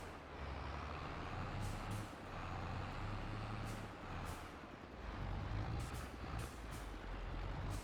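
A farm vehicle reverses in Farming Simulator 22, its engine droning steadily in a low rumble with several short hisses of air brakes breaking through, fairly quiet and with no voices.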